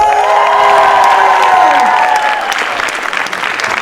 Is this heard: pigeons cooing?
no